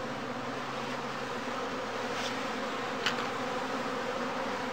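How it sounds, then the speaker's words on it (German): Honeybees buzzing steadily around a straw skep hive in a heathland beekeeping yard, a dense continuous hum with an occasional bee passing close by. "Die Bienen des Volkes nehmen durch die Schlitze Kontakt mit der neuen Königin auf"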